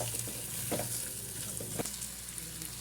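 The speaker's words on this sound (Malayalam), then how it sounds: "നമുക്കിനി ഇതിലേക്ക് കോവക്ക ഇട്ട് കൊടുക്കാം കേട്ടോ നല്ലോണം ഒന്ന് മിക്സ് ചെയ്ത് കൊടുക്കാം" Ivy gourd (kovakka) curry being mixed in a pan over low flame, with a steady fry-like hiss and two or three distinct scraping strokes of the spoon, close and moderately loud.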